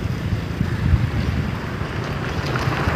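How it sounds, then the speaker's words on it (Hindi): Strong wind gusting outdoors beside a green tea garden, a steady broad roar with microphone buffeting throughout and no talking. "बहुत तेज हवा चल रहा है"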